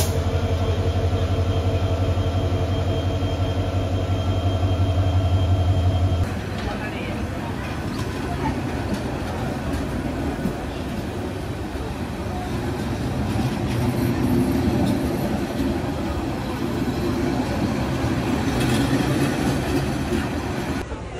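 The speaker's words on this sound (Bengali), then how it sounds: "আর আমাদের ট্রেন ছেড়ে যাচ্ছে তার নির্ধারিত টাইম থেকে 64 মিনিট লেটের বোঝা মাথায় নিয়ে।" The Korotoa Express passenger train pulls out of a station in Bangladesh, a steady droning engine hum giving way to a continuous low rumble and rolling clatter of wagons, with faint voices around.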